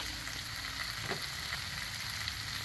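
Eggs fry on a Blackstone griddle greased with cooking spray, giving a steady, close hiss of frying that runs without a break, with a soft tap partway through.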